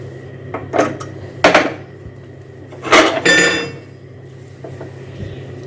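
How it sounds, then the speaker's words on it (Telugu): Steel pots and dishes from the previous night are scrubbed and set down in a home kitchen, a few sharp metallic clanks and clinks in quick bursts over a low steady hum, with no talking. "నైట్ గిన్నెలు తోముకుంటాండి,"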